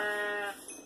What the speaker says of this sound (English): There's sheep appearing, hold on.